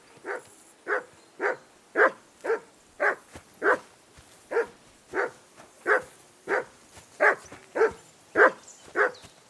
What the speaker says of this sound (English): call off that damn dog before he wolfs down the last of our mates